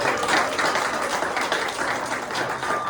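A crowd claps continuously at a real estate event in NYC, a thick, even roar of many hands at close range with no clear voices over it.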